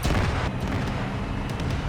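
Heavy, rumbling explosions in the video game Arma 3 roll together in a continuous low boom, loud and dense, with a few sharper bursts on top.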